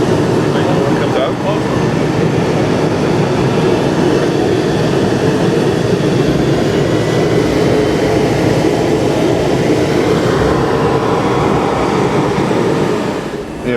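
Chrysler Turbine Car's turbine engine running steadily with a loud, broad rushing whoosh and a jet-like whine that holds throughout, fading slightly at the end.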